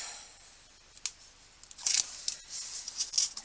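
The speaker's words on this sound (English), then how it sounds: "So let's peel the backing off there." Backing being peeled off adhesive tape on a handmade pull-tab card: a small click, then a crackly, papery rip in several short close bursts, quiet and alone.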